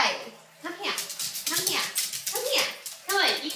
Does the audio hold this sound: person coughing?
no